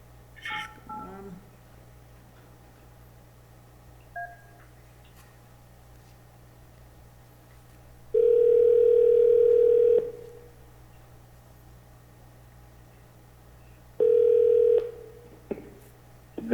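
A call placed on a phone during a town hall public meeting: a few quick dialing tones at the start, then two long ringing tones several seconds apart over a quiet room hum.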